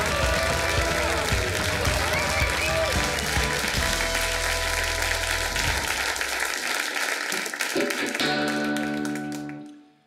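A studio audience at a late-night comedy show applauds a musician, loud continuous clapping with music playing underneath that fades out near the end.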